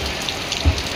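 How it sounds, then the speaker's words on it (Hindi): Heavy rain pours down steadily in a dense, close hiss, with a soft low thump partway through. "भयानक वर्षा है"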